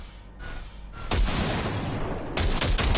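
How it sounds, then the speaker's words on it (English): Short burst of gunfire from a weapon in Cyberpunk 2077, loud dense crackling shots starting about a second in and running to the end, with a fresh surge near the close, over a low background hum. "Fire a short burst into it."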